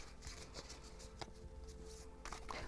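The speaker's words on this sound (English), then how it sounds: "I'm gonna shuffle and see what the" Tarot cards being shuffled by hand, close and quiet, with rapid riffling flutters and soft slaps of the deck in an uneven rhythm.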